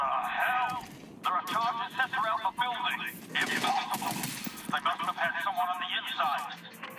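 Loud bursts of rapid gunfire rattle in repeated volleys, broken by short pauses and a heavier blast, with the sharp, processed sound of combat in the noir comic-book shooter game Liberated.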